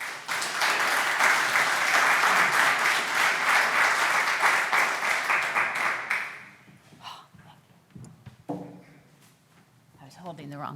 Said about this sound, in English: So please a round of applause for David and Buzz.